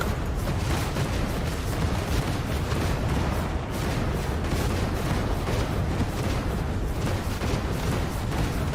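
Psyker fires rapidly in Warhammer 40,000: Darktide, a dense, unbroken barrage of blasts and booms that stays loud and constant throughout, with no voice over it.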